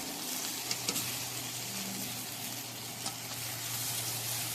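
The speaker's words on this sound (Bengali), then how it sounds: "চিংড়ি মাছটা দিয়ে ভালোভাবে লঙ্কা, চিংড়ি মাছ আর রসুন, পেঁয়াজ এগুলো ভালোভাবে কষিয়ে নেব।" Fried prawns sautéing in a pan with taro leaves, green chili, garlic and onion, making a soft, even sizzle with faint stirring clicks throughout.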